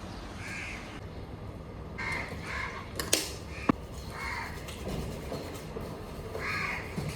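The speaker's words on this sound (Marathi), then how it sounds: "कावळे बघ किती ओरडतात" Crows caw repeatedly outdoors: several harsh calls in loose bursts, fairly close, over a noisy background with a couple of sharp clicks.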